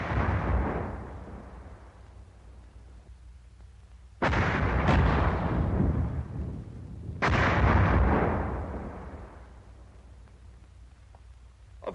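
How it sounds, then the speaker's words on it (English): 81 mm and 60 mm mortar shells exploding, two heavy booming blasts a few seconds apart, each with a long rumbling decay, following fading rumble from an earlier burst. "Of course, an exploding mortar shell can kill"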